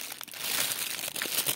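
A plastic bag of raw chicken drumsticks crinkles and rustles close up in a brief burst of handling, with no voices.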